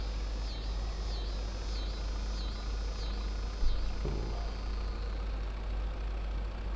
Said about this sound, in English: So move this tractor